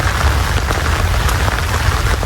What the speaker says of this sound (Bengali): বৃষ্টি কিন্তু শুরু হয়ে গেছে।